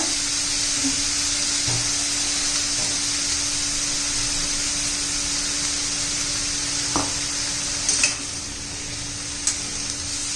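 Dhemsa vegetable sautéing in hot oil in a pan, a steady close sizzle under a constant hiss, broken by a few faint stirring clinks and taps.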